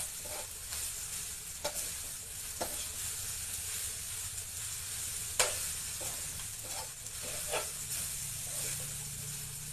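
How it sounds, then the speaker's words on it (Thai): Rice stir-fried with egg and a little sugar in a hot pan: a steady bright sizzle and hiss, broken by occasional scraping spatula strokes, close up, with no talk. "ผัดข้าวอาหารจานเดียวนะจ้า"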